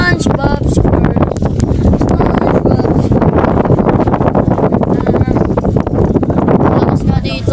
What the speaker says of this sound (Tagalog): Lakas nga dito ng hangin.